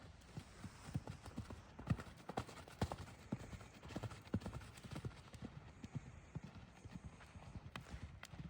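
A horse's hooves clip-clop at a steady trot in a riding stable, a quick even rhythm of faint, fairly distant hoofbeats over a soft background hum.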